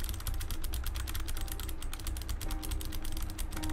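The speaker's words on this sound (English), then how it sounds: "You guys can hear intensive typing" Rapid, intensive typing on a computer keyboard during Undertale gameplay, a dense run of quiet key clicks fairly close and continuous, with no talk.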